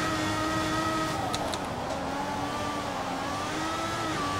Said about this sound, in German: Mal wieder den hochdrehenden Motor.